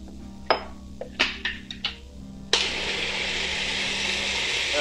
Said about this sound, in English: We're going to put this in our food processor. And we want to puree this.